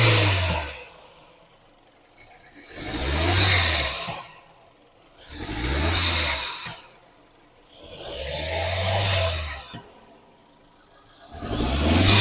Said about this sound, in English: I can hear the knocking noise also inside the engine.